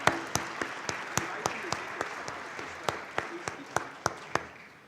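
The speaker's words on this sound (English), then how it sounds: "All of these volunteer leaders and our staff certainly deserve a huge round of applause" Applause at a Stanford Real Estate Hall of Fame banquet comes as a string of separate sharp claps over a low room murmur, fairly sparse and irregular rather than a full ovation, with faint background chatter.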